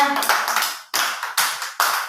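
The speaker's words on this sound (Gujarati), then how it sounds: "ચાલો બધા એક તાળી પાડી દો" A group claps hands together in a bright, sharp burst, then three short rounds of claps follow in a steady rhythm. The clapping is close and loud and has no talk over it.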